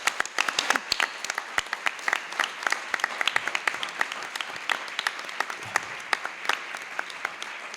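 An audience at a book presentation on public health claps to welcome the speakers, a loose scattering of individual hand claps with distinct sharp hits rather than a dense roar, steady throughout.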